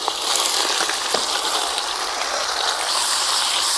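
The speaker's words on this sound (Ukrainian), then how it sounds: "додаю туди масло і будемо смажити м'ясо" Pork frying in oil in a kazan cauldron over a fire on maximum heat, a loud, continuous hissing sizzle with small popping crackles, steady and close with no talk.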